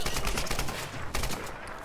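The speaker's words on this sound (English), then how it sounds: "Hey, someone's shooting at me." A burst of rapid gunfire in Tomb Raider Definitive Edition (2013), dense, continuous shots crackling for under two seconds over busy game ambience.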